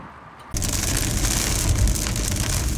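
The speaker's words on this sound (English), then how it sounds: "As soon as we got in the car, it started pouring down rain" Heavy rain suddenly starts pouring on a car in Oklahoma City, jumping from quiet to a dense, loud, continuous hiss and patter on the roof and windows that holds for the rest of the stretch.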